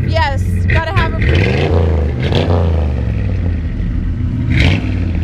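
A 1966 Ford F100 pickup with a four-speed, revving loudly up close, its engine climbing and falling in pitch with a clattering edge, while people talk nearby.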